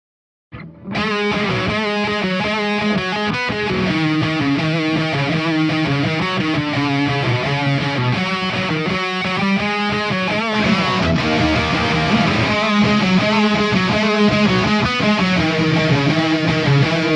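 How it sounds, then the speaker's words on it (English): An electric guitar played through a Swollen Pickle fuzz distortion pedal churns out a loud, sustained fuzzy riff with chord changes, continuous and dense from start to finish at a soundcheck. "It's a great little distortion pedal that can go from a fuzzy distortion to just like a really crazy single note like overdrive."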